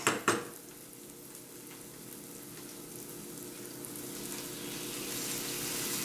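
Cherry tomatoes drop into a pan of browning garlic and sweet onion, with a couple of sharp impacts at the start followed by a steady sizzle and frying hiss that slowly grows louder.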